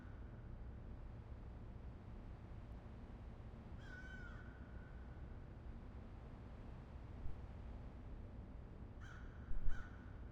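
A raven caws in the Reverse: 1999 video game, a short call standing out briefly above a steady, noisy ambient background, followed later by a few faint clicks.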